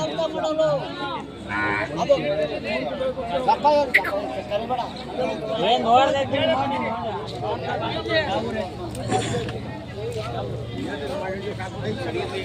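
Cattle at a large livestock market in Tumakuru district moo repeatedly amid a busy crowd, with people talking and chattering close by while the lowing animals call out over the babble.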